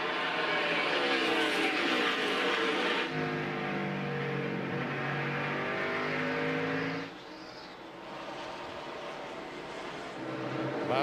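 NASCAR race cars roaring around Richmond International Raceway in a fall 2001 race, loud sustained engine drone with shifting pitch as cars pass, a brief dip near the end before the roar returns, with commentary over it.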